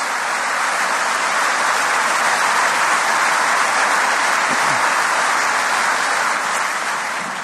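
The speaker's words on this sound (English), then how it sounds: "let's give them all a round of applause" A large conference audience in a packed hall at Queen's applauds at a Good Friday Agreement 25th anniversary event, with loud, dense, steady clapping sustained throughout and no break.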